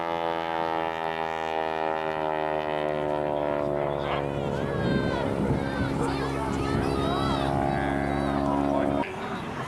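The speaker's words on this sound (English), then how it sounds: "Hear that great big old roar of that airplane as it comes back across that Pratt Whitney engine, cranking out some power." A propeller airplane with a Pratt & Whitney engine roars past at an air show, its droning, tonal engine note swelling and then cutting off near the end while someone talks over it.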